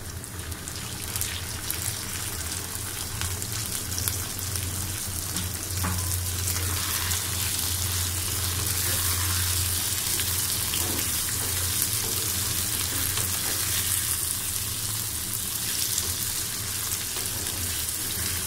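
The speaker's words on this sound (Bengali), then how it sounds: "পেঁয়াজটা এখন একটু নরম হয়ে এসেছে, আমি কলিজাটা দিয়ে দিচ্ছি।" Pieces of liver go into a pan of softened onion and fry with a steady, dense sizzle, a continuous close crackle like light rain that holds evenly throughout with no talking.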